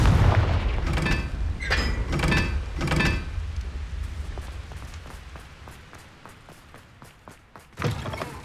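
In the Hogwarts Legacy video game, a Confringo spell fires off a burst of sharp, booming blasts in quick succession, followed by a fading rumble and one more late impact.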